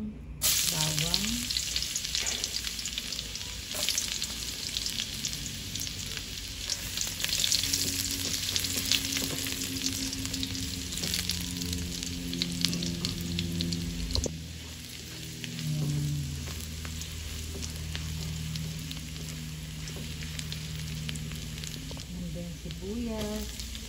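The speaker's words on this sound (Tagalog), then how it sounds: "magigisa na po tayo ng bawang" Garlic sautéing in hot oil in a pan, a dense continuous sizzle and crackle up close with occasional stirring scrapes, while a voice or other background sounds run underneath.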